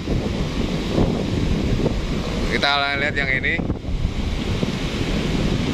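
Big surf at Batu Karas beach roars steadily under constant wind buffeting the microphone, as someone speaks briefly over the noise partway through.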